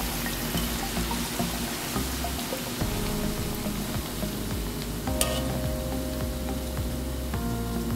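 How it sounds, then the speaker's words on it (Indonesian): Shallots frying in hot oil, a steady close sizzle and crackle with occasional stirring scrapes and clinks of the utensil against the pan. "selanjutnya goreng kembali sisa bawangnya dan lakukan seperti tadi menggorengnya"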